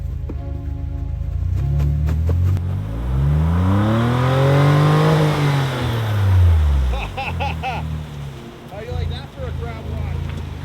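Car engine revving hard as the vehicle tries to drive out of deep snow in British Columbia, Canada, pitch sweeping up and falling back in a long rising-and-falling strain, with voices and scraping around it.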